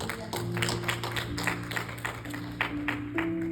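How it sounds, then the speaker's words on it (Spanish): A church congregation claps for the Lord during a worship service, steady dense clapping with individual slaps standing out, over a sustained organ or keyboard tone. "Denle ese aplauso fuerte al Señor."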